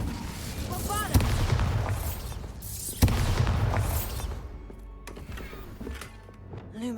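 Bombarda explosion spell in Hogwarts Legacy, two sharp booming thuds about two seconds apart, each followed by rumbling debris and crackle that fades out, with a voice speaking over parts of it.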